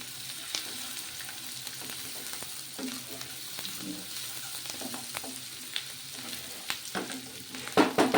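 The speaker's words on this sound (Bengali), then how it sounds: "পেঁয়াজ ভাজা হয়ে গেছে" Onions and garlic fry in a pan with a steady moderate sizzle. Scattered clicks and stirring scrapes grow louder toward the end.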